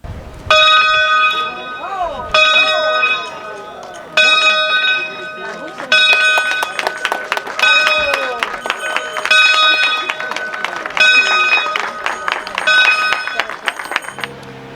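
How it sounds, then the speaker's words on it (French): A newly inaugurated chapel bell in Tadoussac rings repeatedly at an outdoor inauguration ceremony, its bright strikes recurring steadily and close, with a few voices faintly audible in the background. "S'en est suivi de la cérémonie d'inauguration de la nouvelle cloche au nom de Louise, qui s'est tenue à la chapelle de Tadoussac"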